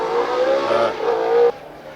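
A Formula 1 car spinning on slick tyres on a wet track at the 1989 Canadian Grand Prix, heard as a loud, high-pitched engine wail that wavers in pitch for about a second and a half, then cuts off sharply.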